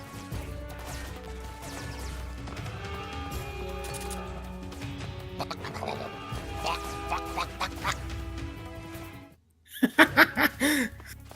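A man imitates a duck with a burst of nasal quacking squawks that breaks in after a short silence, following laughter and game-style sound effects from Metal Gear Solid 3 Delta.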